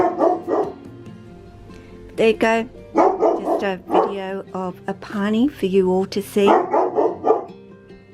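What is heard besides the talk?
dog barking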